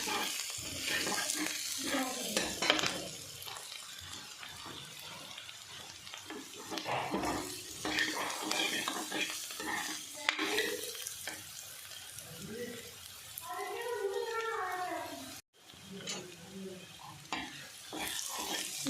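Onion, ginger, garlic and green chillies fry and sizzle in a pan for a potato and aubergine dish, with a steady hiss under repeated stirring scrapes and a brief pause near the end.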